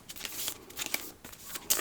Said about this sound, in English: I'm not very good at the initial shuffle.